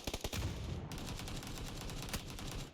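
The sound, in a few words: gunfire in the video game PUBG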